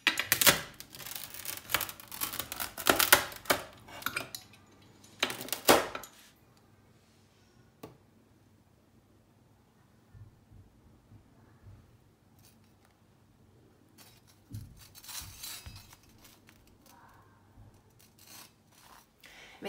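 A crispy baked vegetable Flammkuchen is cut in loud, close bursts of crunchy slicing and scraping, a quiet pause, then another run of crackling cuts near the end.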